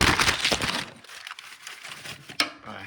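Sheets of paper get crumpled by hand to start a wood stove: a dense, crackly rustle for about a second, then scattered quieter crinkles and one sharp crackle near the end.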